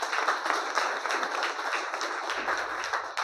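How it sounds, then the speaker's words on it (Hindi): Crowd applause at a motivational talk, a busy patter of many hands clapping at a steady level for a few seconds, with a faint low hum joining near the end. "सर के लिए जोरदार ताली बजाओ।"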